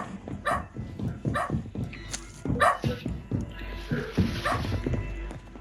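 A dog in a Call of Duty Warzone match barks in a quick series of loud, sharp woofs, then a softer whimpering yip, while gunfire and game sounds play along with talk.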